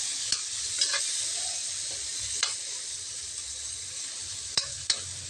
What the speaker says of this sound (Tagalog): Ayan, gisa-gisa lang.